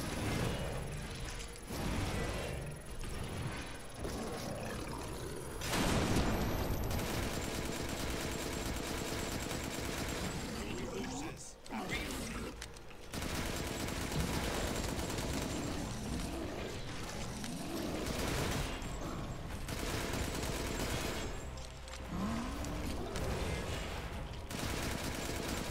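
Gunfire in Resident Evil Village during a Village of Shadows run, repeated shots and bursts running under a dense, steady wash of game sound and effects.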